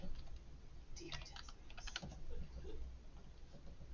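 A few quick bursts of keystrokes tap on a computer keyboard to enter something into the Desmos graphing calculator, light clicking clusters heard fairly close in a quiet room.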